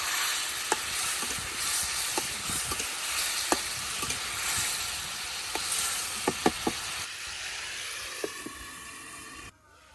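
Spice masala and fish fry and get stirred in a pan, a loud continuous sizzle close by, punctuated by sharp spatula clicks and taps throughout.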